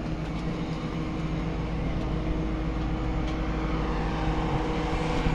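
A steady, dense roar of airplane engines drones on without break, heard from inside the cabin, loud and unvarying.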